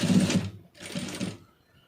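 Sewing machine stitching along a folded fabric hem for a hook strip, two quick bursts of whirring stitches close by with a short pause between, no talk.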